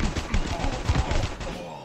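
An automatic gun called the Anaconda fires in a first-person shooter game, a short run of rapid, evenly spaced shots at close range that loops without pause.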